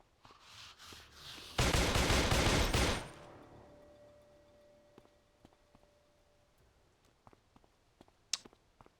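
Rapid burst of gunfire shooting zombies in a video game, a loud sustained volley lasting under two seconds, followed by quieter scattered clicks and ticks.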